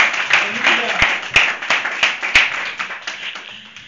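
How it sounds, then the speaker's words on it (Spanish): A church congregation claps in praise to the Lord, a rhythmic, fairly loud patter of hands with a few sharp, distinct claps standing out, tapering off toward the end. "Pero un aplauso al Señor"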